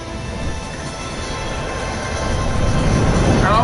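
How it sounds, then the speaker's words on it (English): A train rumbles on in the Final Fantasy VII Remake demo, a loud, continuous rolling drone that builds toward the end, with faint squealing at the close. "It's the choo-choo train."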